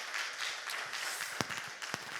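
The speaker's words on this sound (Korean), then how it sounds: "지금 자리에 안 계시면 우리 박수 한번 쳐주십시다." Faint, scattered applause from a church congregation, a soft wash of clapping with a couple of sharper isolated claps standing out, distant and low in level.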